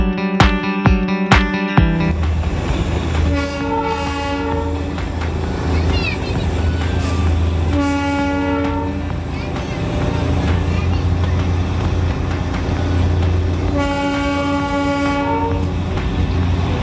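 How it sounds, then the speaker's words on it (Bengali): Darjeeling toy train creeping slowly toward Ghum station, opening with a few sharp chuffs, then a low engine rumble and wheel noise broken by three loud, long horn blasts, heard close by. "ট্রেন খুব ধীরে ধীরে এগিয়ে চলল ঘুম স্টেশনের দিকে।"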